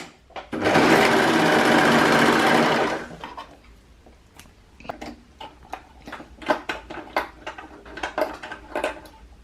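A sewing machine runs in one loud, continuous burst of about two seconds while stitching fabric for pants. Then come quieter irregular clicks and handling taps as the needle is lowered and the presser foot is lifted.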